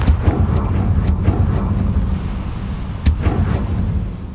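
The Confringo explosion spell in the video game Hogwarts Legacy sounds as loud booming blasts over a dense rumbling background, with a sharp crack about two-thirds of the way through.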